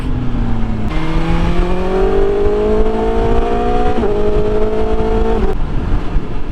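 A BMW S1000XR motorcycle engine with a Pro Race exhaust revs loudly and steadily, pitch climbing through gear changes with sharp shifts near one, four and five and a half seconds, no talk over it.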